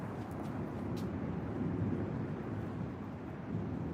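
Deep rolling thunder from a severe thunderstorm in Arizona, a steady low rumble filling the whole stretch with faint wind noise over it and no talking.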